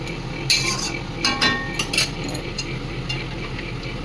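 Cabbage being stirred in a cooking pan for a vegetarian festive dish, with scraping spatula strokes and light metallic clinks against the pan at close range, alone.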